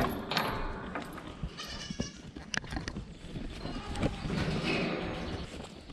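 Buck goats bleat in a fenced farm pen, several uneven calls over shuffling, rustling movement and faint hoof sounds, with no talk.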